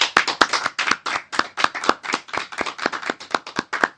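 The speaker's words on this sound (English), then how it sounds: "So please, folks, give them a round of applause" A round of applause from a small audience for two producers, made of sparse, distinct hand claps in a fairly steady rhythm that sound close and dry.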